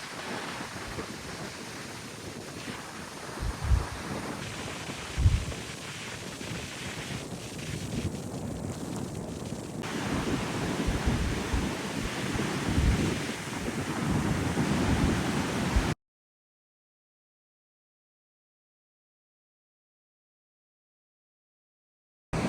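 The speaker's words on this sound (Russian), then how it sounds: "Сегодня ветрено, но пока дождя нет." Wind gusts buffet the microphone on a sandy beach with surf rolling in beside it, a steady broadband roar with thumping gusts that stops abruptly partway through.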